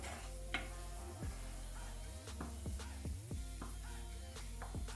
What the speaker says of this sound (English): Now we will be frying it. Continue frying,